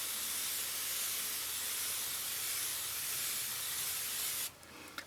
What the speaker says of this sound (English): I'm just going to spray this tank down.